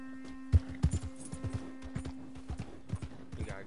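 Horse hooves clip-clop in Red Dead Redemption 2, a series of distinct hoof strikes at an irregular walking pace over a steady low game hum.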